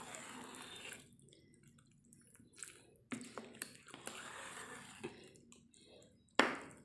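Onion pakoda batter is mixed by hand in a bowl with soft wet squelching and scattered sticky clicks and drips, close and fairly quiet, with a sharper slap near the end.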